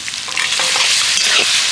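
Boiled potato stirred into a fried spice mix to make a filling, a loud close sizzle with busy scraping and clattering of a spoon against the pan.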